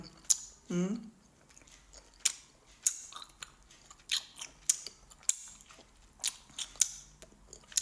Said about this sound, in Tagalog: Pag nguyain lang, parang bubble gum.